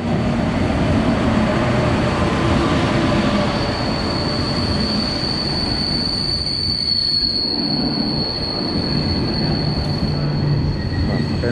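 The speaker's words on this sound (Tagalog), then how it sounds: "Antay lang namin bullet train." A train in Korea moves through a station, wheels squealing in a sustained high tone over a loud, steady rumble of rail noise, with no talking.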